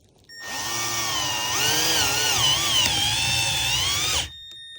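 A power drill whines steadily for about four seconds, pitch rising and shifting, as stainless pointed screws are driven into cast aluminum on a 2017-2020 Ford Raptor steering wheel.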